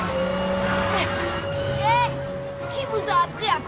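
A cartoon car engine whines and races along under lively character voices speaking over it, with shifting pitch swoops and other effects mixed in.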